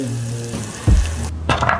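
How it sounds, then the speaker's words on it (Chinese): Bone-in meat that has just come out of the oven, first roasted under foil and then uncovered, sizzles with oil in a short, quiet crackle over a low hum, with no voices. "你们看看这滋滋冒油的表面"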